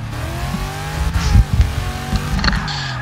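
Drift cars at the ESDA round at Monza in 2017, with a BMW leading, roar close by as the engines rev and the tyres squeal, a dense and loud sound with the pitch climbing and wavering throughout.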